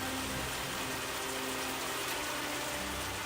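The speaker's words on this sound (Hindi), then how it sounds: "बिजली कड़कती है, भारी बारिश होती है।" Heavy rain pours down steadily during a thunderstorm over farm fields, a dense continuous hiss of water with no gaps.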